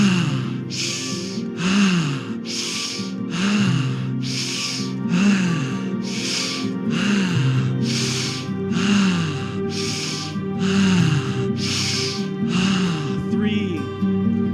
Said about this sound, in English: Breathing in through the nose, breathing out through the mouth.